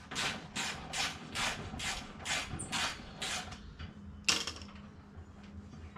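A wrench works a nut off a bolt on the back side of a car radiator area, giving a series of about nine regular creaking, ratcheting strokes followed by one sharp click, close and alone.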